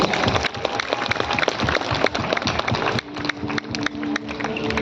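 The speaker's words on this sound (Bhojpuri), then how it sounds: "जनकपुर धाम के लिए जोरदार तालियां" Loud, dense audience applause at a live devotional music event in Janakpur Dham, Nepal, a continuous crowd of clapping hands that holds steady throughout.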